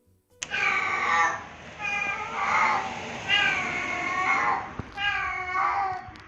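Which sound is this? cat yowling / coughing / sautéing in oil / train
cat yowling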